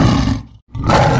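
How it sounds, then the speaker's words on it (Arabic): A lion gives a loud, rough roar that cuts off abruptly into a brief silence, then bursts out again just as forcefully. "lion."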